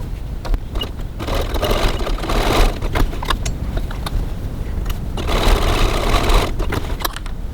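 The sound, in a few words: sewing machine stitching the ends of bag straps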